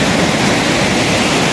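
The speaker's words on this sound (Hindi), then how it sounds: "दरिया का पानी देखें कितना तेज आ रहा है" Fast-flowing river water rushes near the Shigar Fort in the mountains, a loud, dense, continuous roar with no breaks and no talking over it.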